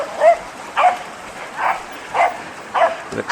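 Dogs barking on a Chiang Mai downhill mountain bike trail, five separate barks spaced roughly every half second, moderately near, with no talk over them.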